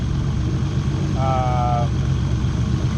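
A Nissan Fairlady Z fitted with an R35 GTR exhaust, S2 cams, a 67 ball-bearing turbo and E85 fuel idles with a loud, steady, rumbling drone, nearby, over a background of voices.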